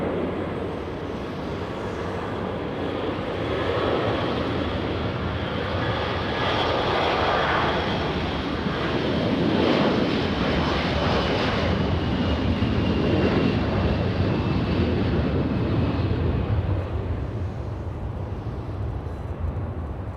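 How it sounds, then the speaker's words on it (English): A KLM Boeing 787-10 Dreamliner in from Amsterdam arrives at LAX with a loud, broad roar of jet engines that holds steady and close, swelling slightly midway through, with no voices. "KLM, the flight from Amsterdam, 787-10 Dreamliner"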